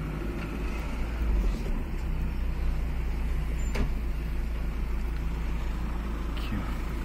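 A car drives along a road toward a gas station, its engine and tyre rumble a steady, fairly loud drone throughout with brief louder swells and no talking.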